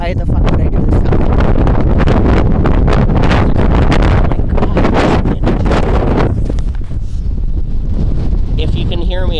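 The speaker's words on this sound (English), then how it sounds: "I'm sorry about the wind." Wind buffets the microphone outdoors, a loud, rumbling low roar with gusty bursts that swamps everything, while a person talks underneath it.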